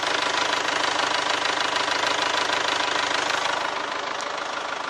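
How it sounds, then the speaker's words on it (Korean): A 2.0-litre EXDI 200 diesel engine in an SUV runs at a steady idle, its dense, even clatter close and loud throughout with no talk over it. "엔진 소음 먼저 들려드리면은"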